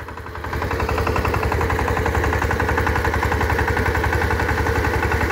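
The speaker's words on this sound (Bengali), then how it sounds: "এ হচ্ছে আমার SAR 28 new black addition power tiller" A SAR 28 New Black Edition power tiller with 28 blades runs steadily outdoors at dusk while tilling a field, its engine giving a loud, even, rapid chugging pulse throughout with no talk.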